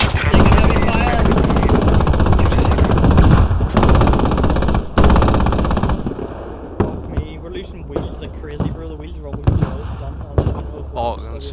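Gunfire in the video game Squad: loud, close bursts of automatic weapon fire and scattered single shots, dense at first then more intermittent, with people talking over the shooting.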